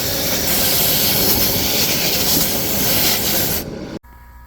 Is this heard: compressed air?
yes